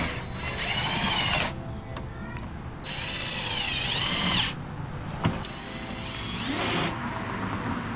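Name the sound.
power drill bolting car front lip in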